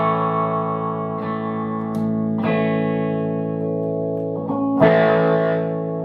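An inexpensive $200 electric guitar rings out sustained chords with distortion and a little reverb, the tone shifting as new strums come in every second or so, played alone with no one speaking.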